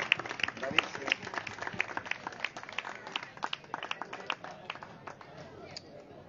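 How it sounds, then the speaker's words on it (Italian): A small audience at an Italian book presentation gives a loose round of applause, uneven claps from scattered hands that thin out toward the end, with voices murmuring underneath. "Tributerei anche a loro un applauso."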